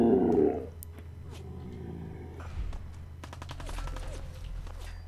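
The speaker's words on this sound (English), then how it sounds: "Oh, he's shooting at me." Gunfire rings out in the video game Fallout 4, a loud burst at first followed by a rapid series of sharp, distant-sounding shots, with no talking.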